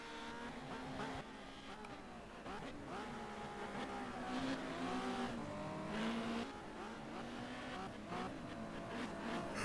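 Touring race cars at the Helsinki Thunder street circuit drone steadily with engine whine and shifting pitch as they drive and head into the pits, a dense continuous roar heard from a distance.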